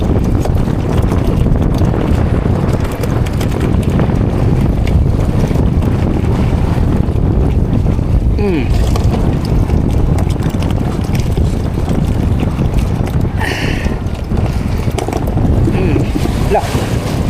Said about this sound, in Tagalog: Dito na tayo sa mga alon.